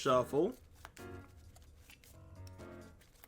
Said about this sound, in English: we're gonna shuffle these back, and we're gonna shuffle